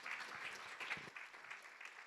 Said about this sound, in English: let's give Sarah a big round of applause.